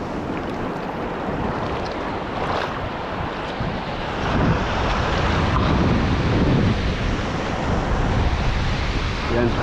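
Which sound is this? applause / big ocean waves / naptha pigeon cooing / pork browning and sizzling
big ocean waves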